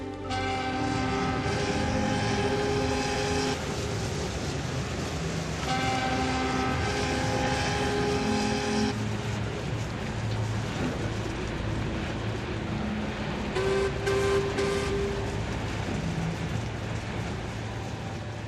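A tugboat's engine drones steadily at a distance, the hum building and shifting in pitch with tonal whines layered on top.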